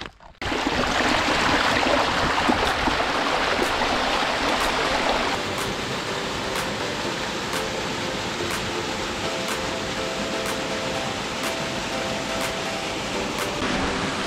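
Steady broadband rush of a flowing stream at a plunge pool in the Lake District, continuous and fairly loud, with no voices, a brief quieter moment at the very start.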